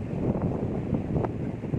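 Steady wind gusting and rushing over the microphone in a botanical garden in Baguio, continuous broadband noise with no talking.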